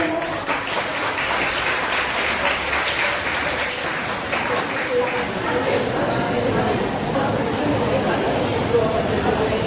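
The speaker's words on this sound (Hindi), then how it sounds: "जोरदार ताली से" Audience applause at a Janmashtami folk group dance performance, steady broadband clapping from a large crowd that fills the whole stretch at an even level, mixed with background chatter and hall noise.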